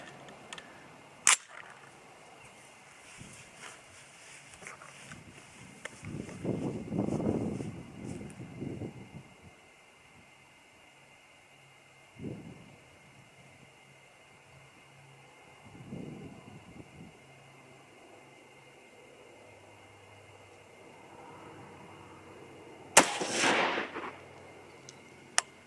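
A rifle chambered in 6mm ARC fires 90 grain Game Changer pulled bullets, with two sharp, loud cracks about twenty seconds apart and quieter bumps and background noise between them.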